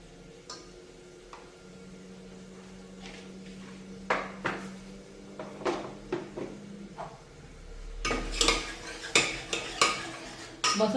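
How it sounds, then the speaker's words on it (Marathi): Masala with turmeric, red chili and homemade black spice mix is stirred in a pan, giving repeated metallic clinks and scrapes of a spoon, louder and busier toward the end, with no talk. "मसाला 1 मिनिटासाठी परतू द्यायचा आहे चांगला."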